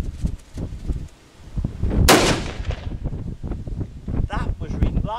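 A rifle fitted with a muzzle brake fires a single loud, sharp shot outdoors, with wind buffeting the microphone and someone talking before and after the blast.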